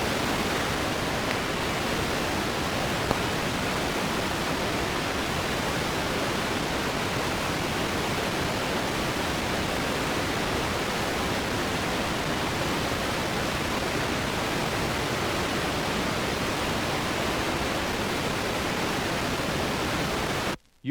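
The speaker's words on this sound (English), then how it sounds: "Now 20 seconds of all frequency pink noise," Steady full-range pink noise test signal played on the right channel only, from a Soundcraftsman audio equalization test record, holding constant and loud for about twenty seconds before cutting off abruptly.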